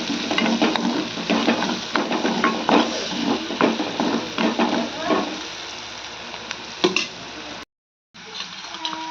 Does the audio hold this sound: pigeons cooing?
no